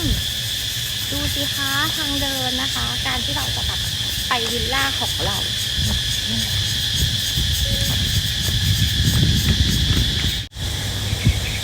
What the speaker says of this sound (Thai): เสียงจิ้งหรีดร้องตลอดทางอ่ะทุกคน